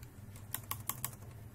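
Several crisp computer keyboard keystrokes, about four distinct taps in a loose rhythm, close and fairly quiet over a low steady hum, with no talking.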